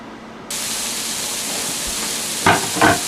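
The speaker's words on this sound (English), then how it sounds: "your meatballs are browning in the frying pan" Steady broadband sizzle of meatballs browning in a frying pan, with two brief louder scrapes or stirs near the end; no voices.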